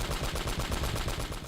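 Dense, continuous automatic gunfire and blasts from the video game Uncharted: Drake's Fortune, a loud, unbroken barrage of rapid shots filling the whole moment with no voices.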